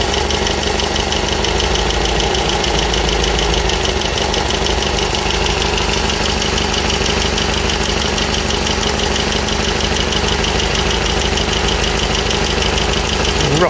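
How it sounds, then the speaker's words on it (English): An MGB engine idles steadily at operating temperature during a carburettor test, its even mid-pitched running close and continuous, with only a slight rise and fall in speed and no talk. "you should just hear the engine speed up then slow again slightly."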